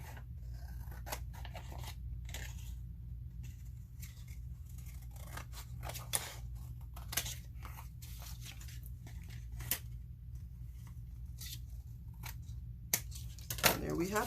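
Scissors trimming away excess paper from a notebook cover with glued-down pages, a series of quiet, close snips and cuts scattered over a steady low hum, with a sharper burst of cutting near the end.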